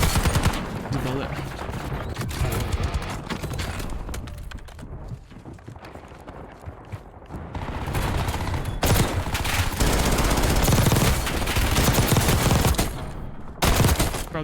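PPSh submachine gun firing in Warzone, Black Ops 6 Season 2: dense bursts of rapid automatic gunfire with loud sustained stretches and brief breaks, mixed with game effects and a voice talking over it.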